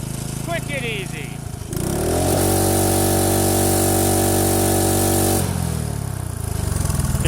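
An old carbureted small engine idles steadily with a low, even putter after a cold start in winter, following a brief stretch of talk and handling noises, running loud and close for several seconds.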